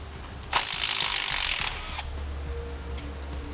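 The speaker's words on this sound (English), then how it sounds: "We need to remove this 10mm bolt." A ratchet backs out a 10mm bolt from a parking brake cable bracket near the rear differential of a 2014 Chevrolet truck, a single burst of rapid clicking for about a second, close and fairly loud, then quiet.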